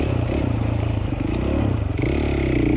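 A 450 dirt bike engine works hard during a hard enduro race, giving a steady, loud, continuous motor drone with clattering and scraping over rough terrain throughout.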